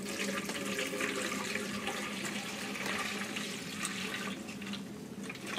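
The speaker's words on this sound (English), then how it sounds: "we simply pull this little hose away from the sterilizer and drain it into a pail" Water drains steadily from a sterilizer hose into a pail during maintenance of an M11 Ultraclave, a continuous splashing, trickling pour that stays close and even throughout with no voices.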